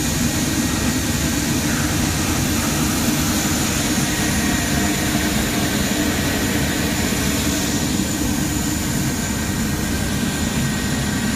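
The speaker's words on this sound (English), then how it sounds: "We have a P3 with the auxiliary power unit going in the background" A P-3 aircraft's auxiliary power unit runs continuously with a steady high-pitched whine over a dense turbine roar, unchanging throughout.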